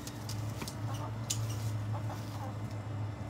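Chickens cluck in short, scattered bursts at a moderate distance over a steady low hum, with no one talking.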